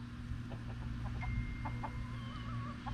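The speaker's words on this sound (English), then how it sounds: "Got another chicken fight." On a farm yard, a hen picks fights with another hen's chicks, and a series of short, fairly faint clucks rises over steady low background noise.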